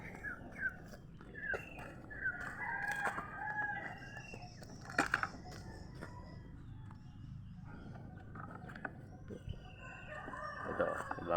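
Backyard chickens with a rooster crowing faintly at a distance among clucks, under someone speaking nearby amid outdoor ambience.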